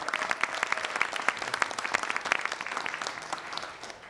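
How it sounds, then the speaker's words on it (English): Applause from an audience at a government press briefing held at a church testing site, a steady dense patter of many hands clapping at moderate volume throughout, fading slightly at the end. "Let's give him a round of applause"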